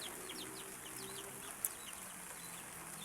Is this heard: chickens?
yes